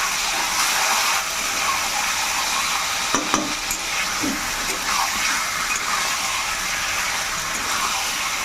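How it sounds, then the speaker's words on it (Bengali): Chicken sizzles while being sautéed and stirred in a pan for a coriander chicken curry, a steady loud frying hiss with a few scraping stirs partway through. "এরপরে চিকেনটা ভালো করে কষতে হবে।"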